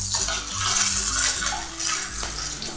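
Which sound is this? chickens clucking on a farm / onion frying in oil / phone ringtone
onion frying in oil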